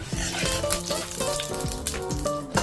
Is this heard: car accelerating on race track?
no